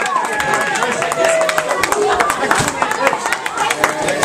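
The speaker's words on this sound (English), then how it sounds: "Round of applause here to Chris, the DJ." A crowd at a Christmas event claps for the DJ, a dense round of applause with scattered loud claps, voices and cheering mixed in throughout.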